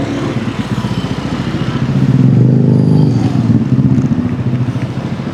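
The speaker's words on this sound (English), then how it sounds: "this truck going past, the garbage truck" A garbage truck drives past on a busy beachside street in Bali, its diesel engine rumbling with a rattling, pulsing chug that swells as it nears and stays loud throughout.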